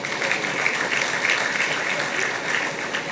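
A large audience at a governors' gathering applauds Nigeria's President, an even, dense wash of clapping that holds steady at full strength throughout, with no voices heard over it.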